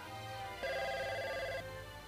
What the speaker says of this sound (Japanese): やば、春から電話だ